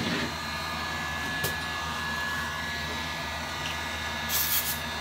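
A heat gun warms a plastic wheel center cap during powder coating, blowing as a steady, close airy roar with a few small bumps in level and no speech.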